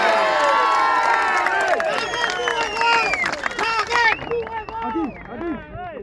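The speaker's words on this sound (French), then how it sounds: "nos camarades et Mollet, nous applaudissons bien fort, nos camarades d'Arène." A large crowd cheers and whoops loudly with scattered clapping at a prisoner's release, voices shouting over one another, the roar gradually thinning toward the end.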